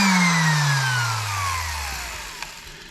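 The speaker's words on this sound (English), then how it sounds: "So I've gone ahead and plugged in the sander" A DeWalt electric sander with a gunked-up, sticky switch, its motor giving a close, steady whine that slides steadily lower in pitch as it winds down, with no other sounds around it.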